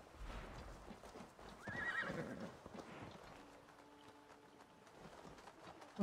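Horses neigh and whinny over the clip-clop of hooves in the video game Assassin's Creed Valhalla, with birds cooing faintly in the background.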